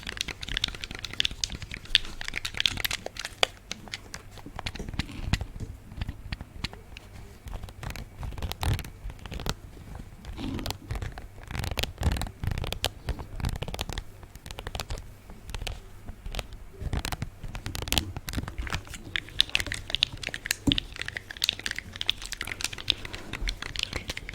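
The buttons and joystick of a game controller click rapidly and irregularly up close in soft, dense bursts of small plastic taps and rattles, with no talk.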